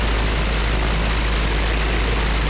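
A Zenith light aircraft engine runs with its propeller turning, a steady loud broadband roar close to the source with no pauses and no talking.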